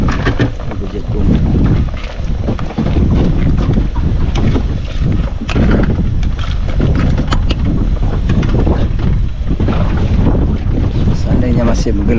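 Rough sea and strong wind batter a fishing boat at sea, a continuous loud roar of gusting wind buffeting the microphone and crashing waves, steady throughout with no clear speech.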